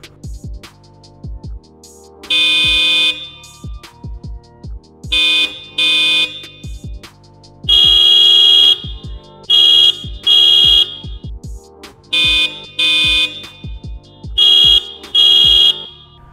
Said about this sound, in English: honk the horn so you can listen to these, switch them out with the Sharptones, and then we can see how these sound